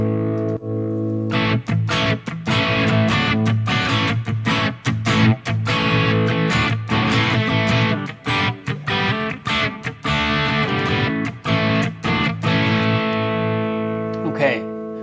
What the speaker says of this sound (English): Here you get more distortion.